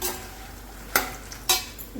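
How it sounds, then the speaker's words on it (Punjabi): Fox nuts (makhana) frying in ghee in a kadhai, a steady soft sizzle broken by two sharp stirring scrapes of a spoon against the pan. "ਹੁਣ ਆਪਾਂ ਇਹਦੇ ਵਿੱਚ ਫੁੱਲ ਮਕਾਣੇ ਤਲਨੇ ਸ਼ੁਰੂ ਕਰਤੇ ਨੇ"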